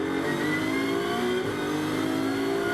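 A GT race car in qualifying at Silverstone, heard on board with a steady, loud engine drone and a sustained high rev under load, running continuously without any voices.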